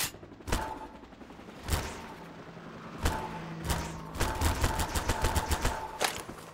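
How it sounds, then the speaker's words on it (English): Half-Life 2 MMod weapon fire with the Garry's Mod tool gun sample mixed in: sharp repeated shots spaced about a second apart, then a quicker run of bursts toward the end, fairly distant and moderately loud. "if you listen to that sound, you can hear the sample of the tool gun that they use in Gary's mod"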